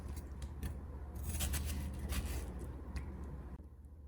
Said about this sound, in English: turn the watermelon slice around and cut symmetrical lines on the other side